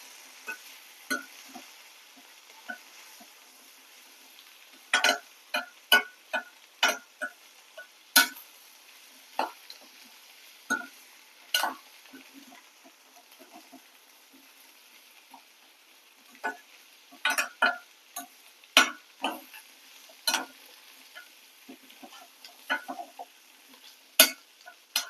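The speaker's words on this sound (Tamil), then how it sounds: "இப்போ நல்லா மசாலா எல்லா இடத்துலையும் ஸ்ப்ரெட் ஆகிற மாதிரி நல்லா மிக்ஸ் பண்ணிக்கோங்க" Spiced potato mash with garam masala is stirred and fried in a pan, quiet crackling punctuated by many irregular scraping and tapping spoon strokes over a faint hiss.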